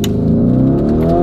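A Lamborghini SUV in Corsa mode, loaded with six people and heading up a hill, accelerates hard as its engine revs climb in pitch, loud and close.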